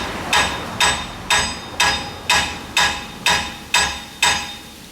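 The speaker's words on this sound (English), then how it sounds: "That type of tap will not get the lug off." A hammer taps a stuck brake drum lug on a 2010 Toyota Corolla: nine evenly spaced, solid metallic knocks with short ringing decay, close and without talk.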